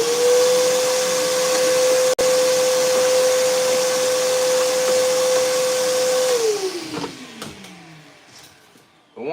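Power saw without dust collection running steadily with a constant high whine, then winding down as its pitch slides lower toward the end, with a brief click partway through.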